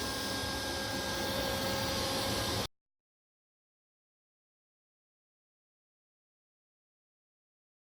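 Botvac D3 Connected robot vacuum running, a steady hissing whir that is near and even for under three seconds, then cuts off abruptly into silence.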